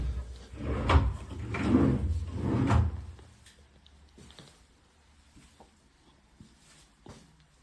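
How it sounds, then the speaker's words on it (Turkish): Drawers of an upstairs bathroom cabinet in a show villa sliding open and shut, three loud rolling thumps in quick succession followed by fainter clicks and knocks in a quiet room. "Çekmecelerimiz."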